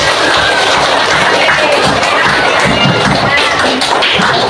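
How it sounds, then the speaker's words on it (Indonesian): Class applause at the end of a school lesson: loud, dense clapping mixed with cheering and excited children's voices, steady and close throughout. "Itu tepuk tangan dulu buat kita semua."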